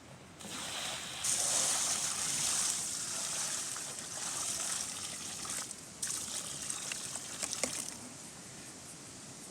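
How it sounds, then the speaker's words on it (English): Clay-laden water pours and trickles steadily onto garden soil for several seconds, a close, hissing liquid flow that eases off toward the end, with no talking. "So I'm going to pour it in."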